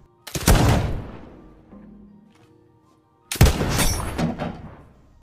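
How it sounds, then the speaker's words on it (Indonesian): Two sharp pistol shots during target shooting in a film, each a loud crack with a decaying echo, spaced about three seconds apart against near silence. "Bahkan mereka juga sempat memamerkan keahlian menembak satu sama lain."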